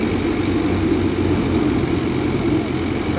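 A Kubota MU5502 tractor runs a thresher, its engine labouring under heavy load with a loud, constant low drone and machinery hum that stays even throughout.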